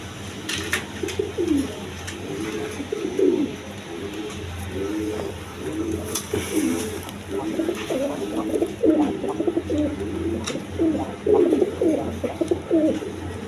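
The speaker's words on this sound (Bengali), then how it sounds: "এখানে এক প্যার জ্যাকোবিন কবুতর আছে দেখেন রেড কালারের মধ্যে একদম কোয়ালিটি সম্পন্ন কবুতর" A pair of red Jacobin pigeons coos repeatedly nearby in soft, throaty, rolling phrases, with a low background hum and no talking.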